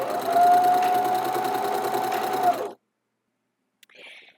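Home sewing machine stitching a test hem on a T-shirt fabric scrap, a steady close whirring buzz running for over two seconds and then stopping abruptly, followed by a faint brief rustle.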